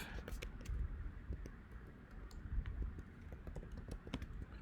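A computer keyboard clicks quietly with uneven, light key taps spread across the stretch, close to the microphone, over a soft low background hum.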